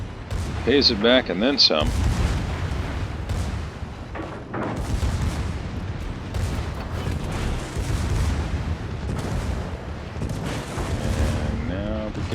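Bismarck secondary guns in World of Warships fire in repeated rumbling booms, a dense barrage under a commentator's talking.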